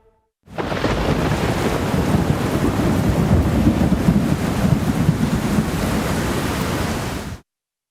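Heavy monsoon rain pours with gusting storm wind in Gujarat, a dense, steady roar of broadband noise that holds at a constant loud level for about seven seconds, then cuts off abruptly.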